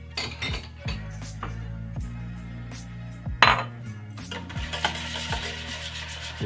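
A spoon stirs buffalo sauce in a small pan, with repeated close metallic clinks and scrapes in an uneven rhythm and a sharper clatter partway through, no talk.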